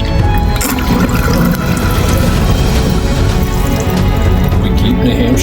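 Water swirls down a freshly cleared kitchen sink drain after a grease clog, a loud, steady rushing gurgle that holds constant throughout with no talk over it.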